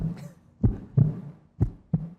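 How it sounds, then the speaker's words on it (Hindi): A heartbeat sound effect pulses as two close pairs of deep, muffled thumps, lub-dub, lub-dub, heard alone and up close. "ये आज हमारे किसकी दिल की धड़कन है?"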